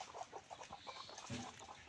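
A free-roaming village rooster clucks in short, repeated bursts at close range, with a steady background hiss and no talking.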